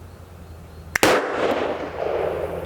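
A single sharp, loud report from a century-old Hopkins and Allen XL double action pocket revolver cracks after a faint click, then rings and decays into the background.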